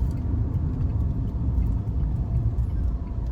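Steady low engine rumble and idling drone of cars and other vehicles queued on both sides of a road in a large traffic jam during a Chennai to Vizag road trip, continuous and fairly loud with no talk.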